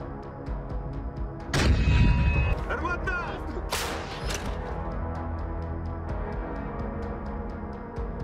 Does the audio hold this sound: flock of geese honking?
no